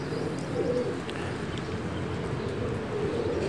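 Pet pigeons coo in soft, repeated low calls close by, a steady murmuring rhythm with no talk over it.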